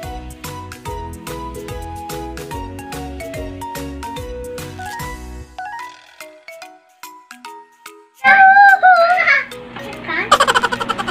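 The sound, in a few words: children talking noisily in the background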